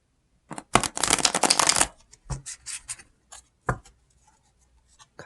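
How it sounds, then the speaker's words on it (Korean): Tarot cards being shuffled close up: a dense riffling burst lasting about a second, followed by scattered softer slaps and rustles as the deck is handled. "카드 셔플을 좀 해보고"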